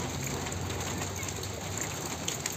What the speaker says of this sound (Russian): На улице дождь, и всю ночь дождь лил.